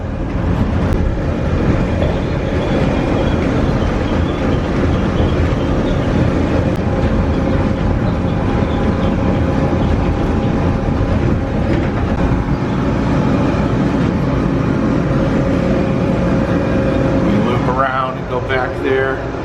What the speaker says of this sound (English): You can just watch the monorail all day long.